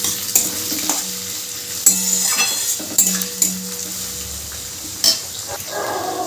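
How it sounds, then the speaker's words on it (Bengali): Onion and potato fry together in a pan with a steady sizzle, broken by repeated scraping stirs and sharp clinks of a utensil against the pan's metal. "দুটো মিডিয়াম সাইজের পেঁয়াজ আর আলুটা একই সাথে খুব ভালো করে ভেজে নিতে হবে"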